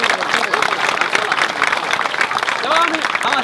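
Audience at a memorial event clapping for a commemorative gift presentation, brisk dense applause heard fairly close, with voices calling out over it near the end.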